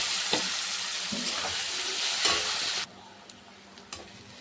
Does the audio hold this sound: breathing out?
no